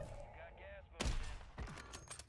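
Sniper rifle fire in the video game Warzone 3, a sharp loud shot followed by a second blast with echoing tails, while a player talks over the game sounds.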